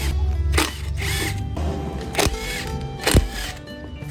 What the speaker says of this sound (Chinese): 把这个螺丝全部拆掉